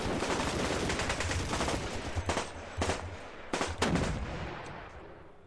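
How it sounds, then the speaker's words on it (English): Anti-tank guns firing in the wargame Panzer Campaigns Kiev '43, a dense continuous rattle of gunfire with several sharper, louder shots standing out, no talking. "Let's wipe out those anti-tank guns fast."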